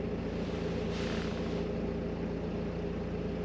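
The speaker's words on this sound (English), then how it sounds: "Oil temperature 60 degrees, engine at idle" Car engine idling steadily at low revs while the oil warms ahead of diesel particulate filter regeneration, a continuous low hum with a brief rise in broadband noise near the one-second mark, no voices.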